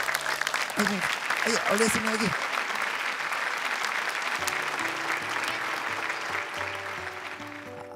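Studio audience at the Hafiz Indonesia 2015 television show applauds steadily for the parents in attendance, a dense broadband clapping that runs through the whole stretch while a host speaks over it, with music tones entering later.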